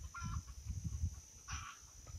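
Caged chickens cluck and squawk in a few short bursts, close by, over low thumping and shuffling as a small dog plays at the cage.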